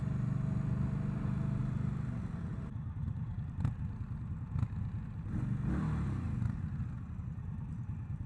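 A 2021 Indian Scout motorcycle's engine rumbles low and steady at close range, idling with a deep throb and a few sharp mechanical clicks.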